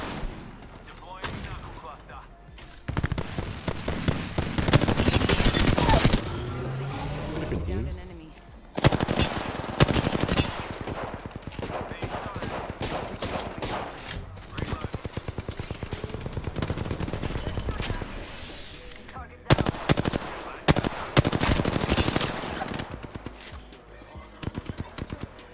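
Rapid video-game gunfire from an Apex Legends firefight during a drive-by, loud automatic bursts that start and stop in several long volleys with short gaps between them.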